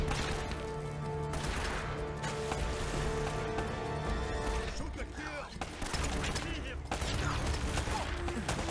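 Continuous automatic fire and crashing impacts in a jungle firefight from Uncharted: Drake's Fortune Remastered, dense and loud throughout with a brief lull midway, game music and effects layered underneath.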